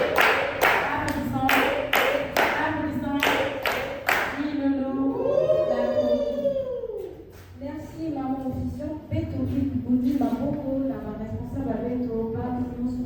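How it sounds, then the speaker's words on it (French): Rhythmic applause from a congregation at a church Sabbath celebration, a quick run of sharp claps for a few seconds before giving way to voices and talk. "Vous pouvez applaudir ça, l'intervention"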